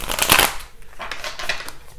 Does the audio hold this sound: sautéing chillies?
no